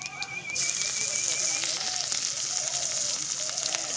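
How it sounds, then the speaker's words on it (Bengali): Panch phoron, dry chili and crushed ginger hitting hot oil in a pan, a loud continuous sizzle and crackle that starts abruptly and keeps going steadily. "এবার দিয়ে দিচ্ছি ফোড়ন। ফোড়ন আছে 5 ফোড়ন আর শুকনো লঙ্কা, আর দিয়ে দিচ্ছি থেতো করে রাখা আদা আর লঙ্কা।"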